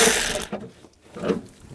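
A hand ratchet fitted with a 13mm socket turns out a battery bracket bolt on a 2007-2013 BMW X5. It makes a short burst of close, rapid ratcheting clicks followed by a couple of lighter metallic ticks.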